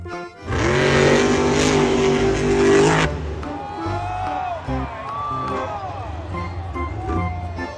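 Toy monster truck giving a loud burst of engine-revving noise for about three seconds, followed by quieter whooping tones and electronic effects.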